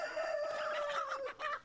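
A chicken in a farmyard henhouse gives a near, continuous run of clucks and squawks, rising in pitch and breaking into a few short calls at the end, with no talk over it.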